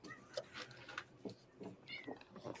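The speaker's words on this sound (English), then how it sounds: "I have a cat." A cat meows a few times in short, tonal calls amid low background noise and some faint voice-like sounds, at moderate volume, close by.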